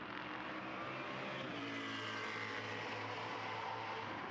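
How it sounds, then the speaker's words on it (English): Ford GT race car at Magny-Cours blasting past a trackside spot, a sustained loud engine roar with a rising and falling pitch as it passes close by. "Just listening to the Ford as it blasts past the microphone"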